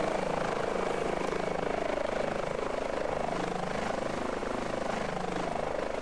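An air ambulance helicopter engine in a flight simulator game runs at idle with a steady, loud whine and rotor hum that stays unbroken throughout, with no talk.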